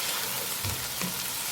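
Boiled black chickpeas are stirred into pulao frying in a pan, a steady dense sizzle with soft stirring scrapes throughout.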